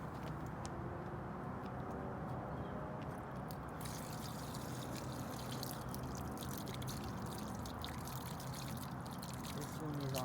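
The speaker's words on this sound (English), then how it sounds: "I'm going to let all the water drain." Water drains steadily from the hot and cold low point drain lines under an RV while it is being winterized, a continuous broadband rush and trickle running throughout at a fairly even level.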